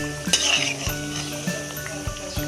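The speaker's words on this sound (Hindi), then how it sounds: "ये तैयार है, पकौड़े फ्राई हो गए। अब मैं इसको प्लेट में निकालती हूँ और मैं दोबारा डालती हूँ।" Potato pakoras frying in very hot oil, a close, bright sizzle and bubbling that runs throughout, broken by several knocks and clinks from a utensil against the pan, with no talk.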